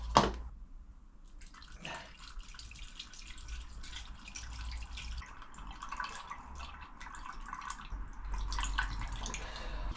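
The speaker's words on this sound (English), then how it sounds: "So next job, get some coolant and get it in there." Coolant pours into a VW Transporter camper, a faint continuous trickle and dripping splash against a low engine-bay rumble, steady throughout with no talking.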